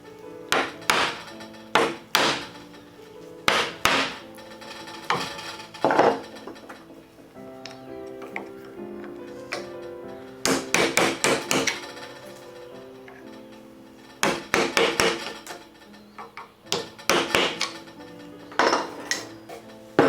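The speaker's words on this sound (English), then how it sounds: "As you go down, the shape of your chisel cleans the sides pretty well." A chisel struck repeatedly while chopping a mortice into a large piece of wood makes sharp, hard knocks in uneven clusters with short gaps, close and loud, with no talking.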